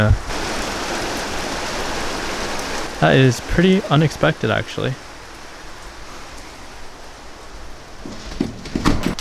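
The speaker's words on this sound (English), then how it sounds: "oh my gosh, it's raining" Steady, dense rain patters and hisses throughout, while a person speaks briefly partway through.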